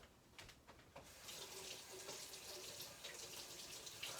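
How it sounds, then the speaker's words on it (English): Tap water runs into a sink while a water-purity meter is being washed. A few faint knocks come first, then a steady hiss of running water that continues to the end, fairly quiet and close. "Let me just wash this and see how bad the water is."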